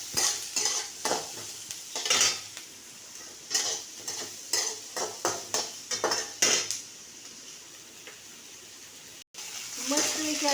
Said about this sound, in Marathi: आता इथं तेलात कांदा घालते. कांदा छान भाजून घेऊया आपण.